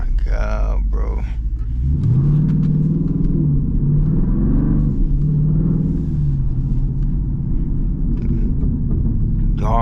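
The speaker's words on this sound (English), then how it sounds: "Y'all, every time I downshift it pop," A straight-piped SRT Jeep rumbles with a loud, deep exhaust drone from inside the cabin, rising and falling with throttle and downshifts, while someone talks over it.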